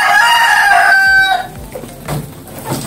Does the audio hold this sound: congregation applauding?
no